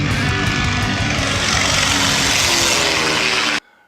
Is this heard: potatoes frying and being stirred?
no